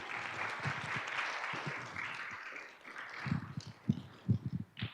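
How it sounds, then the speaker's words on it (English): An audience at a school district governing board meeting claps in a brief round of applause, a moderate patter that tapers off and ends in a few louder scattered claps. "So if we could just give her a round of applause."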